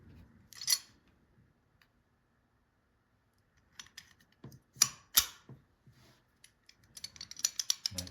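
Historic lock mechanism, likely a shackle lock with compressed springs and a pushing bolt, operated and locked: sparse sharp metallic clicks and snaps, a loud pair of clacks near the middle and a cluster of small rattling clicks at the end, close and alone.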